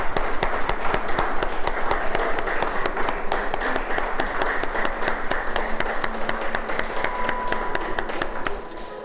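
Church congregation applauding steadily for about nine seconds, dense continuous clapping from many hands that fades slightly at the very end, no talk over it.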